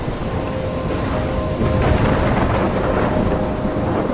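Heavy rain pours down steadily while thunder rumbles through a storm in the video game Life is Strange, with a swell of louder rumbling about midway.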